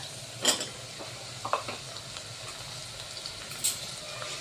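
Onions cook in a pan, a soft, faint sizzle under quiet stirring, with a few light scrapes and clinks of a utensil against the pan.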